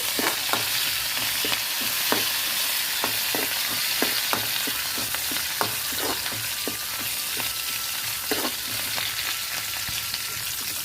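Curry leaves sizzle in hot oil, giving a loud, steady frying hiss scattered with sharp pops and crackles throughout, close to the listener, with no talking.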